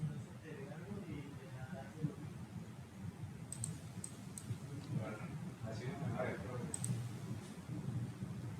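A computer mouse is double-clicked while working in circuit schematic design software: a few faint, quick click pairs come through under steady low room noise and soft talking.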